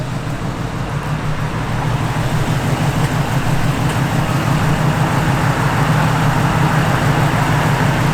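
A 1968 Chevrolet Camaro engine idles steadily with a continuous low rumble, close and loud throughout, with no one talking.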